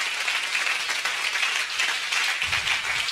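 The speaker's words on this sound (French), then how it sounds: "Mais vous pouvez les applaudir" Steady, dense applause from a crowd fills the whole stretch, a continuous hiss of many hands clapping with no pause.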